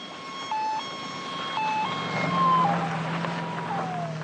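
Ambulance siren wailing loudly in a steady alternating two-tone pattern over a rumbling traffic background, sounding alone for about four seconds as a dramatized audiobook effect.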